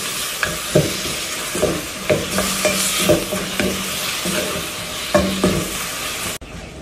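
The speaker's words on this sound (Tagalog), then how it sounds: "Saute lang natin hanggang sa mag-slightly brown yung ating chicken." Chicken sautéing with seasoning in a pan, a continuous close sizzle broken by repeated scraping and clinking strokes of stirring, with no talk.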